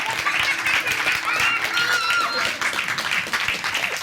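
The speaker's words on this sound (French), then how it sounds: "On peut l'applaudir très très fort, s'il vous plaît." Applause from the audience at a French improvised science storytelling show, a dense, continuous wash of clapping with some chuckling and voices mixed in.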